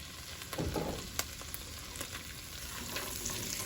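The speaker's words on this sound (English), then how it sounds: "To that same pan, again, we're gonna add the same amount of butter. And you're gonna want to add a little bit of oil to prevent the burning of the butter." Butter and a little oil sizzling in a pan previously used for shrimp, a steady quiet crackling fry with occasional small pops and ticks, close and faint, with no voices.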